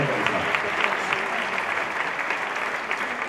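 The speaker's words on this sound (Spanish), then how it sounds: "fuerte aplauso, por favor" An audience claps together in a sustained, even burst of applause, dense and continuous, heard close and moderately loud without pauses.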